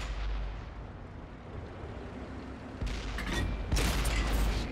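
A tank cannon fires in World of Tanks, one heavy, booming blast with a sharp crack followed by a second loud burst, cutting through a low rumbling engine drone.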